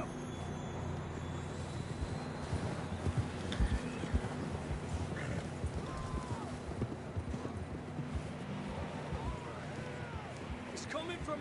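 Horses trotting in Red Dead Redemption 2, with steady clip-clop hoofbeats at a moderate pace set against outdoor game ambience, while a player talks quietly over them.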